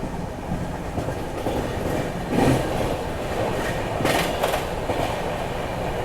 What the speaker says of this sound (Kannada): ಈಗ ಸ್ವಲ್ಪ ಸ್ಪೀಡಪ್ ಆಗತ್ತೆ ನೋಡ್ರಿ ಟ್ರೈನ್